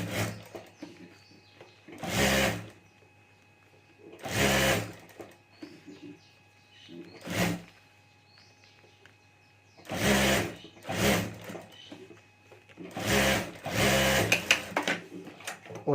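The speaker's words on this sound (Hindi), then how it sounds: "तो यहाँ ऊपर मैं सिलाई कर देता हूँ।" A sewing machine stitches along the top of a handmade fabric clutch purse in several short bursts of rapid mechanical whirring, close and fairly loud, separated by quiet pauses.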